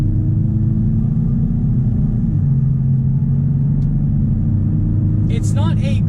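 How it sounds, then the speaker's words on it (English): A 2019 Honda Ridgeline's engine hums and rumbles low as the truck accelerates on the interstate, the tone rising gradually under steady road noise heard from inside the cabin, with a voice speaking briefly near the end. "We are going to get a little bit of an acceleration here with the Ridgeline just to see how it accelerates."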